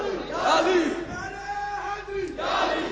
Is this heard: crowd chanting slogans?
yes